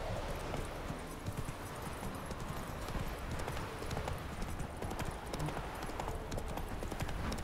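In The Witcher 3, a horse trots at a steady pace, its hooves producing a continuous, fairly quiet clip-clop rhythm that runs alone for several seconds.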